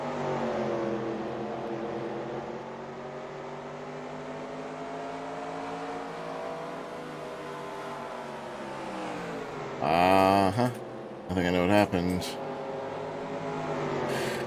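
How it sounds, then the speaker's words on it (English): A race car on the oval at Richmond runs with a steady, slightly wavering engine drone at mid distance, its pitch holding flat rather than climbing. Near the end, brief louder bursts of another passing engine cut in. "Oh, that car sounds down on power."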